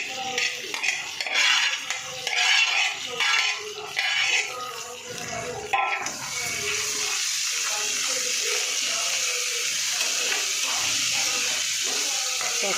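Cut okra pieces go into a pan for a bendakaya fry and are stirred with a metal utensil. Busy scraping and clattering gives way to a steady, loud frying hiss.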